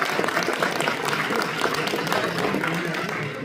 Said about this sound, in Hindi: इनके लिए तालियां होनी चाहिए